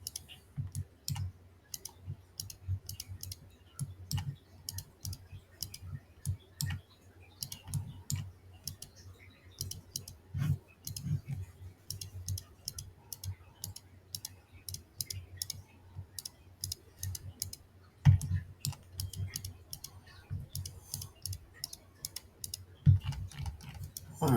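A computer mouse clicks away during work in resin 3D printing software, producing rapid, irregular, close-up clicks that run continuously for over twenty seconds.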